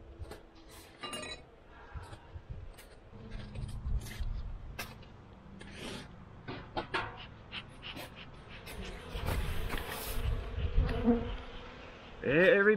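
Honeybees buzz steadily around an opened hive during a February winter inspection, with close wings passing by and occasional light clinks of hive equipment.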